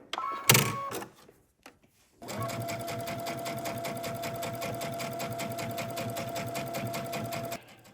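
A home sewing machine stitches a seam for a loungewear set at a steady rapid rhythm. The mechanical whir runs continuously for about five seconds after a short burst and a pause, close and clear with no talk over it.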